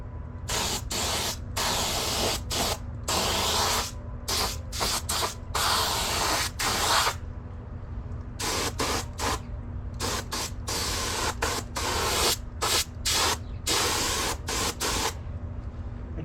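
Spray paint going on the final coat of a fender for a 1972 Honda CB500 Four motorcycle, repeated bursts of close hissing spray separated by short pauses, with a steady low hum beneath.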